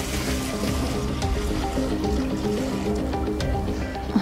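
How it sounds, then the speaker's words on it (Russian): Lamb broth, about three litres, poured from a pot into a kazan for Azerbaijani shilya pilaf in Ganja, giving a steady, close liquid pour and splash that runs throughout with a slight knock near the end. "Который переливаем в казан."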